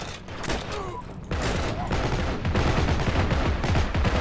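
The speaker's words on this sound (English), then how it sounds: "Something's shooting us." Dense gunfire in the World War II shooter Heroes and Generals, with rapid overlapping shots and bursts rattling continuously near and far over a rumbling battlefield, growing heavier after the first second.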